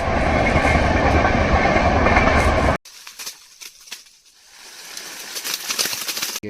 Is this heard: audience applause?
no